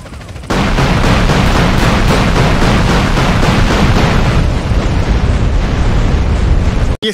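A loud, sustained explosive roar with crackling bursts fills the scene in GTA San Andreas, a bomb blast that rumbles on for several seconds before cutting out abruptly.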